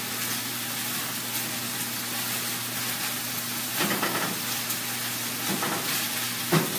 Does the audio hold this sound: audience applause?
no